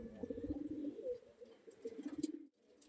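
Kalanka pigeons cooing close by, a steady run of soft, throaty coos repeating in bursts for a few seconds before cutting off near the end.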